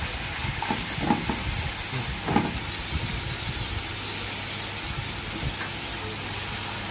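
Spiced Alexandrian liver with garlic, cumin, coriander, chili and nutmeg fries in a pan, a steady sizzle under scattered scraping stirs that cluster in the first few seconds.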